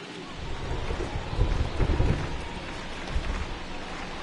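Heavy rain pouring onto a baseball field during a 2022 NL Wild Card game between the Padres and Mets, a steady broadband wash that swells louder around the middle with low rumbling underneath.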